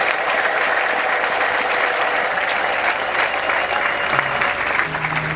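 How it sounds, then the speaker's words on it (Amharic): A church congregation clapping loudly and densely, with possible ululation mixed in, a continuous crowd roar that fills the whole stretch with some faint voices underneath. "እስቲ ልልታ ጭብጨባ ለኢየሱስ ይሁን።"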